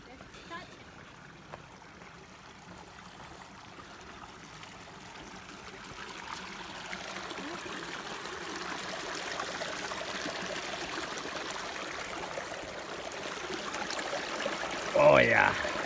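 River water flows with a steady, rushing wash that grows gradually louder as it is approached, then a brief louder splash near the end.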